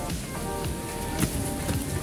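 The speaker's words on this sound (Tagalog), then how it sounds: "Ayun, umuulan na nga." Steady rain patters down in a continuous hiss with occasional louder drips, no voices heard.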